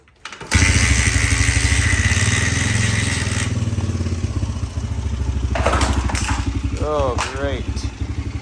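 Dirt bike engine running rough after being kicked over, a loud, close, uneven motor with a ragged idle and sputtering revs that continue steadily throughout, with a brief voice speaking over it near the end.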